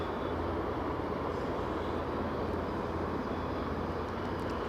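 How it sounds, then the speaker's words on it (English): Offshore helicopters at Aberdeen airport, running nearby as a steady, dense rotor and engine roar that stays level and continuous throughout, with no talk. "there is the sounds of choppers singing away"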